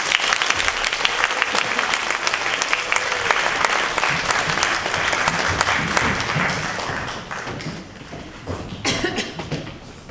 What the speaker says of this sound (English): if we can give a big clap for our 6 Year 4 finalists